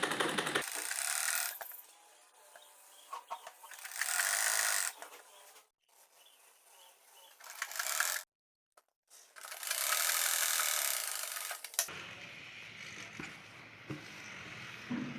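A sewing machine stitching elastic onto a baby dress, running in several whirring bursts of a few seconds each with short pauses between them.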